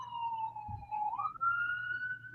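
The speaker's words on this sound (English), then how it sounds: "Like turn the sirens off." A police siren wails from a distance, a single long tone sliding down and then climbing back up, steady and moderately loud with faint background noise beneath it.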